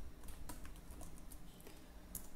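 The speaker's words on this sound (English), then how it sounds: "so we'll type MySQL" Quick, light clicking of keys on a computer keyboard, a steady patter of close keystrokes with no talk.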